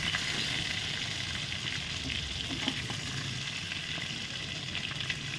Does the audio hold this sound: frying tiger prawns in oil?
yes